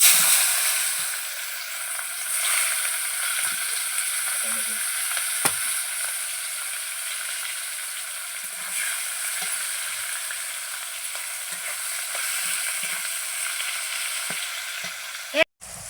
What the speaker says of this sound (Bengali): দেখো পেঁয়াজটা লাল লাল করে ভাজা হয়ে গেছে